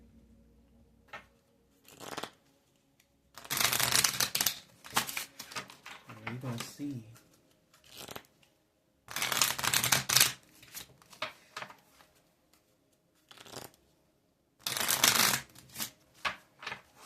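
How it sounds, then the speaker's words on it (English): Oracle cards are riffled and shuffled in several quick bursts, separated by pauses, close by, with a person speaking briefly between them. "Let me give it a good shuffle."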